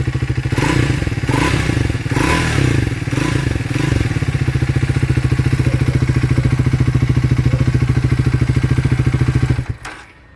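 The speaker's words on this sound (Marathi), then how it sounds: "अशी काही गाडीचा एक्झॉस्ट साऊंड आहे" Close-up exhaust note of a Triumph Speed 400 motorcycle: a few throttle blips swell over the rhythmic idle early on, then a steady loud idle runs until the engine cuts off near the end.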